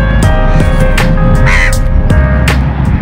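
Crows at a lagoon caw loudly and repeatedly, several harsh calls overlapping in an irregular rhythm over a constant background hum, close by with no talking.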